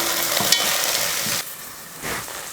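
Beans, carrot and green peas sautéing in a pan, a loud close sizzle broken by stirring scrapes, dropping quieter partway and then rising again, with no speech.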